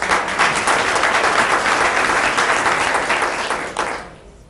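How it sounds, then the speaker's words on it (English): An audience at a school board meeting applauds a senior being honoured, a dense, even wash of many hands clapping at close range that tapers off and fades out at the end. "we could give you a round of applause."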